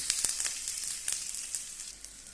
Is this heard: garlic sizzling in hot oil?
yes